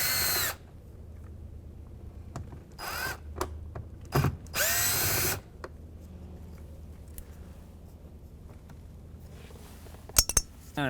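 A power drill whirs in several short bursts while backing Phillips screws out of the door trim on a 2007-2013 Acura MDX, with faint clinks of the screws and trim between runs.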